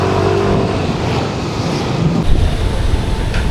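A Yamaha Lexi 155cc scooter engine drones at low RPM while climbing uphill, a steady close rumble with a slight swell partway through and no talking.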